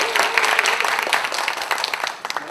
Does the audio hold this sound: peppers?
no